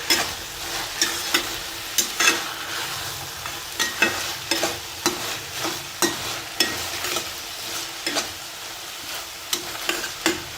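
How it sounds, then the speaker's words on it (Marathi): Green chillies and wal beans sautéed over full heat, with a steady sizzle punctuated by regular scraping strokes of a spatula stirring the pan, close and continuous with no voices. "ते आता छान परतून घ्यायचं आहे।"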